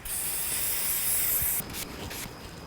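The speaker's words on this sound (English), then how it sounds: "I'm just gonna spray it on a rag." An aerosol finish sprayed onto a rag in a steady, close hiss for about a second and a half, followed by a few shorter bursts.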